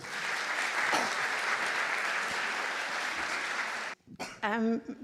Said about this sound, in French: Vous pouvez l'applaudir à nouveau.